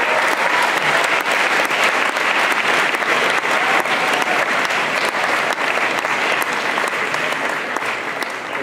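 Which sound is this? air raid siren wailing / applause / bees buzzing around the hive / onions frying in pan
applause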